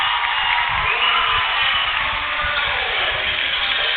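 A homecoming crowd at a high school football game cheers and roars steadily, a dense wash of voices that stays loud and continuous for a few seconds.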